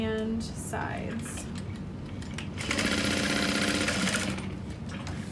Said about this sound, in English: So now I can sew around the top, bottom, and sides.